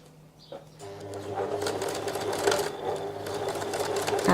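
A sewing machine stitches a seam on a classic coat. After a quiet start, a steady close whirring and rapid needle chatter build up and run on without a break.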